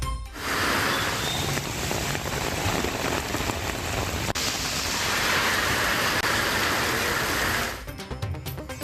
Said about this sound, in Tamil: கூடலூர், வால்பாறை சுற்றுவட்டார பகுதிகளில் பலத்த காற்றுடன் கனமழை.